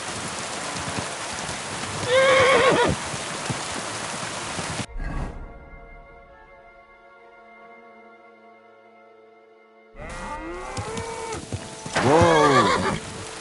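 A horse in Kingdom Come Deliverance 2 whinnies loudly twice, with a near neigh early and another late, over steady rain and faint hoof clops, and a quieter hushed stretch with soft tonal game ambience between them.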